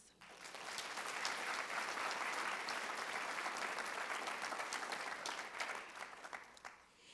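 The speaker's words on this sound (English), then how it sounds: "Give her a round of applause." Audience applause at a high school senior honors night, clapping swelling in quickly, holding a full, steady roar, then thinning to scattered claps near the end.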